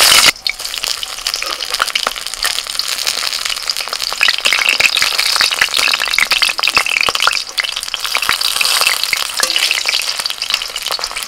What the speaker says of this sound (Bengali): তেল গরম হয়ে গেছে, এবার এক একটা নিয়ে ভেজে নেব।